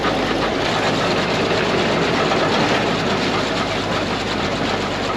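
A small engine idles quietly, producing an even, continuous hum and rumble with no change in level throughout.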